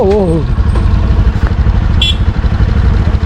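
A motorcycle engine idles and putters close by on a street with a steady rapid throb. A person talks briefly at the start and a short horn-like tone sounds midway.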